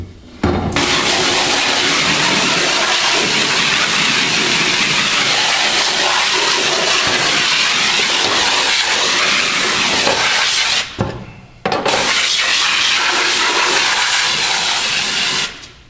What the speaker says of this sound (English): then we rinse it out with the hose